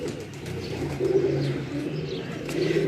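A racing pigeon coos in low, throaty bursts at a pigeon flying contest. A steady outdoor murmur sits underneath, and the coos swell twice in the short stretch.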